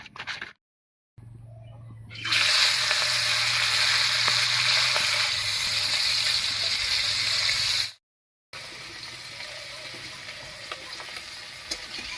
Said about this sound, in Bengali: এবার কড়াইয়ে সর্ষের তেল দিয়ে ইলিশ মাছের মাথা আর লেজাটা ভেজে নিচ্ছি